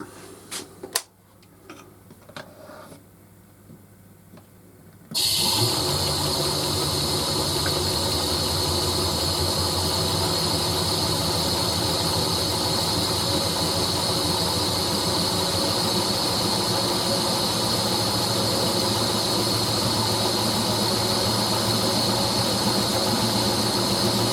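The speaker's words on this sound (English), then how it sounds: "Right, let's see what we can spin this thing up at." Wood lathe spinning a natural-edge pitch pine bowl blank up to speed: after a few quiet seconds with faint knocks, a loud, steady whirring drone with hiss and rumble starts abruptly and holds.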